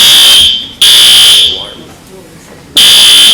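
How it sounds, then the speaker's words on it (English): A building fire alarm blares in a meeting room, loud shrill electronic buzzing in two long bursts separated by a gap of quieter room sound, with a brief voice in the pause. "Fire alarm."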